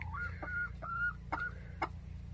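A hen with a treated growth on her foot clucks in a run of short, squeaky calls and chirps, close and distinct over a low steady rumble, with no talking.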